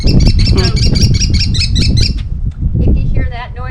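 A kestrel gives a rapid series of shrill, piercing calls, loud and close, repeating steadily for about two seconds before breaking off; a voice is then heard.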